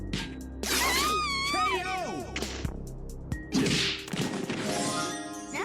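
Cartoonish MUGEN fighting game atomic wedgie attack sound effects: a stretchy whooshing slide, sharp thwacks and a zipping snap, with squeaky pitched sweeps layered over the impacts.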